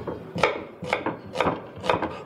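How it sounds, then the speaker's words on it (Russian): Four evenly spaced knife chops through an onion on a cutting board, crisp and close, with faint scraping between strokes and no talking. "Затем переходим к луку. Нарезаем."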